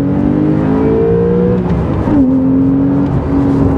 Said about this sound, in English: So acceleration is good, it's strong towards the high end of the RPM.